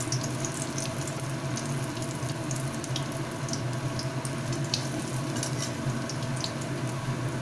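Pakoras fry in hot oil in a pan over a low gas flame, giving a steady, moderate sizzling hiss with scattered small crackles and pops, with no voices.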